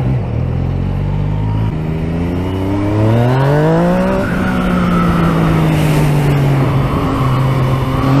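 A Yamaha MT-09 motorcycle engine revs hard and loud against the rev limiter, holding a high buzzing pitch that climbs and then drops back in a long sustained whine, close by with no talk.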